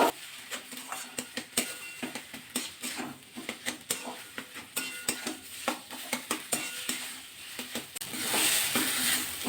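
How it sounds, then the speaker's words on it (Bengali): Spices stirred into potatoes in a pan for Bengali aloo puff patties: a steady run of scraping, clinking stirs with soft sizzling underneath, close and moderately loud, no talking. "ভালো করে মিশিয়ে নেবো আলুর মধ্যে মশলাগুলো"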